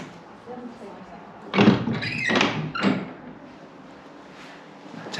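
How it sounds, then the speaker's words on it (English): A church door closing: a few heavy wooden thuds and creaks in close succession over a quiet, roomy background. "close the door."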